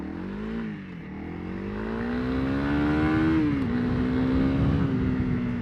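A dual sport motorcycle, a 2024 Kawasaki KLX300 or Honda CRF300L, accelerates hard with its single-cylinder engine note climbing steadily in pitch and volume, then easing slightly and pulling on, loud and close with no talk.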